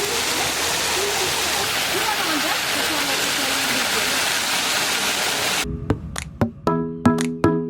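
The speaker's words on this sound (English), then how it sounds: "the sound of the fountain resembles the sound of rain here" Steady, dense rush of splashing fountain water in Udaipur, India, that cuts off abruptly near the end, giving way to sparse musical notes.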